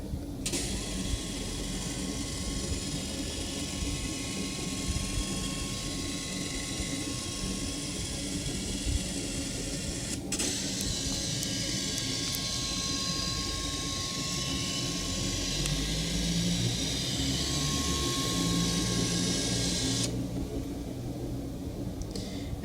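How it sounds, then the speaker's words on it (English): Canon CanoScan LiDE 110 flatbed scanner scanning at 100 DPI, a steady close mechanical whir with a faint tonal whine, its pitch shifting midway as the scan head moves, then stopping near the end. "Scanning at the minimum DPI on my scanning software, 100 DPI."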